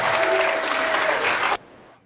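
Audience at a stand-up comedy show in Savannah, Georgia, applauds in a dense, loud burst of clapping that cuts off sharply after about a second and a half, leaving near silence.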